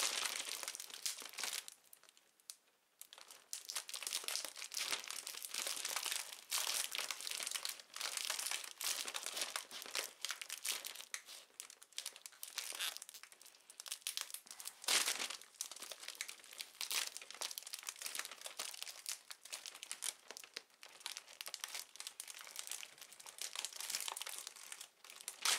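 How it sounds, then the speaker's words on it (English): Crinkly packaging is pulled and torn away from a mail-order orchid plant, giving a steady, close rustle and crumple of paper and plastic with no speech. "Now let's completely unwrap it."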